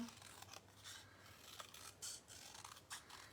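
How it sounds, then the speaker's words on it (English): Scissors snip through a small piece of yellow paper for a handmade fall card, with faint, close, soft cutting strokes in a short irregular series and no talking. "I did have this extra little piece of yellow that I'm just kind of cutting"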